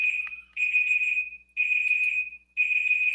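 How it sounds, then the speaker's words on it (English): A timer alarm beeps in three long, steady, high-pitched tones separated by brief gaps, loud and close with no voices over it. "Oh, I did set a timer."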